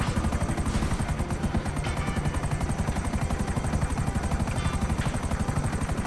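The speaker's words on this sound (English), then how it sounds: "you almost killed my helicopter, man" A video-game helicopter thunders with a fast, steady rotor chop throughout, loud and continuous with no break and no one talking over it.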